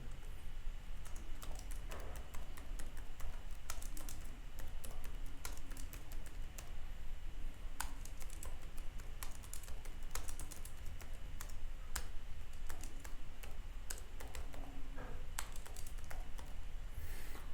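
Computer keyboard typing as an address is entered, rapid steady keystrokes continuing throughout, close and moderately loud with no talking.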